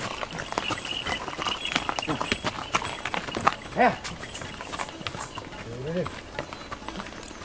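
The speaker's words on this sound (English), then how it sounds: "These are the horses that we carried our gear on." Hooves of pack horses carrying gear clip-clop irregularly on a mountain trek trail, several animals moving close by, with people talking intermittently over the steps.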